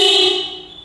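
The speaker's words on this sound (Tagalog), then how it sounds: "Nagdagdag tayo ng busina, hindi na siya cute. Ito siya, ang ating loud horn compact." A single loud, bright blast from a compact aftermarket horn fitted to a motorcycle, ringing strongly at first and then fading over under a second.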